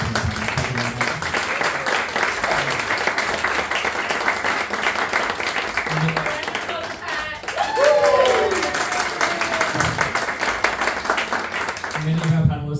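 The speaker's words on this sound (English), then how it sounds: "So could we have a massive round of applause?" Audience applause at a dance discussion panel, a steady broadband clapping wash that continues over a voice speaking throughout.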